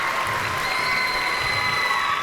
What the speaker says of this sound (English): sending the crowd wild